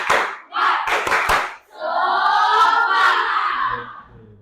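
Schoolchildren in an Indonesian classroom do a rhythmic spirit clap, with quick claps and chanting voices followed by a sustained group shout, loud and close.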